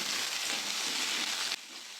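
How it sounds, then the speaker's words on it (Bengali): Cauliflower and potatoes frying in white oil give a steady, close sizzle with a dense crackle that drops abruptly quieter near the end; no voices. "সাদা তেল, কপিগুলো দিয়ে দেবো, আলুগুলো দিয়ে দেবো, ভালো করে ভেজে নেবো।"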